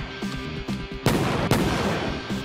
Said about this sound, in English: Why is it a gunshot sound for when you get...